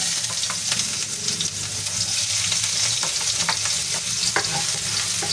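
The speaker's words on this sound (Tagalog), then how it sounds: "Mainit na po yan, nilagyan natin ng konting mantika. Unahin po natin yung luya." Ginger sautéing in a little hot oil in a pan before tilapia goes in: a dense, close, continuous frying crackle with scattered pops and stirring scrapes, no voices.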